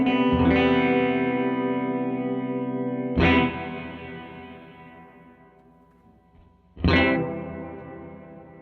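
Three sustained synthesizer tones, each struck and left ringing with a long, washy reverb tail that slowly fades before the next.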